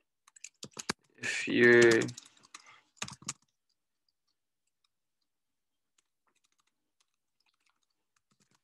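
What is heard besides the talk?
typing on a computer keyboard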